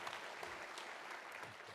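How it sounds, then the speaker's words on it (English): An audience claps steadily at a speedway awards banquet, a dense, even wash of applause that is faint and distant and continues through the whole short span. "Give him a round of applause, too."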